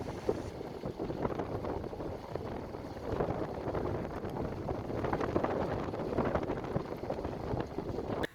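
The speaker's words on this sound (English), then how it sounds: "Trying to get out of the wind here a little bit." Wind buffets a microphone outdoors on the open Alberta prairie near a grain elevator, producing a steady, dense rumbling roar that continues without a break for the whole stretch.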